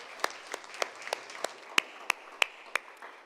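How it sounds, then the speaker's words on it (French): A small audience at a forum on valuing diversity and fighting discrimination greets the returning Quebec Premier with sparse, distinct individual claps that come at an uneven pace over a quiet room background. "Je vous demande de l'applaudir, s'il vous plaît."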